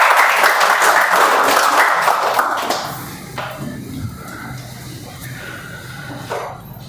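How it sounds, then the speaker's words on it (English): A round of applause from a small group at a meeting rises loud and close for a few seconds, then thins into scattered claps and quiet room noise. "A big round of applause to our"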